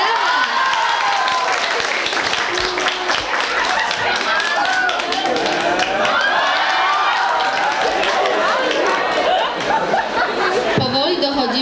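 A television dating show's studio audience applauds, a sustained dense clatter of clapping with scattered chatter and laughter mixed in, continuing at steady strength throughout.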